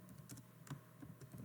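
Quick keystrokes on a computer keyboard while a telephone number is entered into a database table, a short run of light, close, irregular clicks with no voices.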